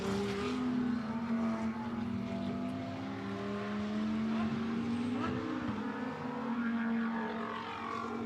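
GT2 race cars at Spa-Francorchamps running down toward Bruxelles, a steady engine drone rising and shifting in pitch as they pass, heard at a distance beneath a race commentator's voice.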